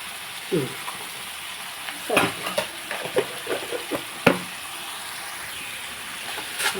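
Onion and tomato frying in a pan for a Telugu egg curry, with a steady low sizzle and several short stirring scrapes and clinks of a spoon against the pan, close by.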